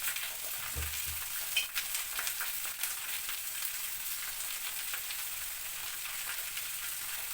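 Onion, tomato and potato sizzle in a hot pan with a continuous crackling hiss, accompanied by a few soft stirring scrapes and clinks, close and moderately quiet.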